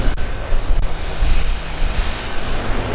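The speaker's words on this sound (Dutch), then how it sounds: "er zit een heel ouderwetse stermotor voor" A Thunderyaks propeller display aircraft with an old-fashioned radial engine of about 2400 hp at a Volkel airbase air show, a loud, steady engine drone with rough low rumble filling the whole stretch.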